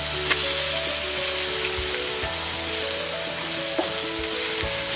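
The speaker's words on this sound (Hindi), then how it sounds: "हमने 2 मिनट तक इसे बिना कवर किए फ्राई कर लिया है।" Ivy gourd (tindora) frying uncovered in an open pan over a medium flame, a steady dense sizzle and crackle with occasional sharper pops and stirring scrapes, close and continuous with no talking.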